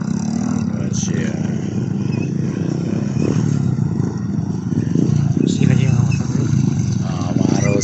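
Motorcycle engine running in a rural mountain barangay, a steady rough drone with occasional clatter while people talk over it.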